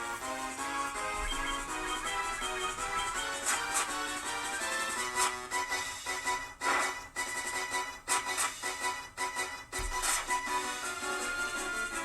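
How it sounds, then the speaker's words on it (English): Orchestral boss-battle music from a Final Fantasy game plays loud and continuous, with dense layered instruments, steady rhythmic accents and sharp percussive hits throughout, and no voices over it. "That is the sound of boss music."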